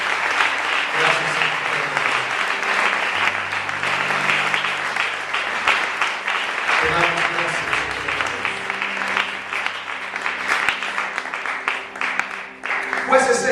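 A church congregation applauds during a sermon in a long, sustained round of clapping, with voices calling out over it and a soft musical drone beneath.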